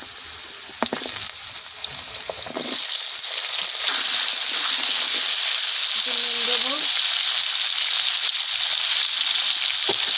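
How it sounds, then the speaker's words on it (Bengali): Pieces of taro fry in hot oil, a steady close hiss of sizzling that swells after a few seconds and holds, with occasional clinks and faint background sounds. "কচুটা ভেজে নেব"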